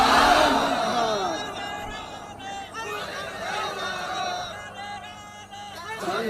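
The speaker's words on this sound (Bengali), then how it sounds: "একটু স্লোগান দেন জোরে।" A large crowd at an outdoor Islamic religious sermon in Bangladesh chants slogans loudly together in rising shouted bursts, with a voice leading over the mass of voices.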